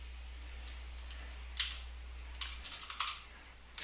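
Scattered keystrokes clack on a computer keyboard while terminal commands are typed, a few sparse taps followed by a quicker cluster, close and fairly quiet over a low steady hum.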